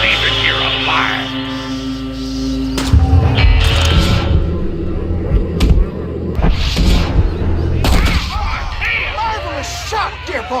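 Gunfire crackles through a Red Dead Redemption shootout, several sharp reports bursting over a low rumble, with game voices talking among the shots.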